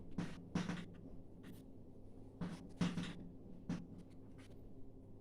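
Pen or pencil writing out numbers in words on paper, several short scratchy strokes in uneven bursts, close and quiet, with no talking.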